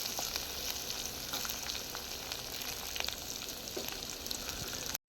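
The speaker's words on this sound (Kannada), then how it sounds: "ಬ್ಯಾಡಗಿ ಮೆಣಸಿನ್ಕಾಯಿ ಇಷ್ಟನ್ನು ಹಾಕಿ ಇವಾಗ ಹುರ್ಕೊಳ್ಳೋಣ" Byadgi red chillies fry in hot oil as a tempering, giving a steady, close crackling sizzle with scattered pops and light stirring, ending in a brief dropout.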